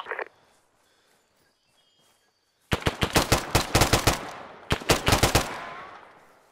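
Automatic weapons fire in bursts in the military shooter Arma 3, loud rapid rounds crackling in two volleys after a short near-silent pause.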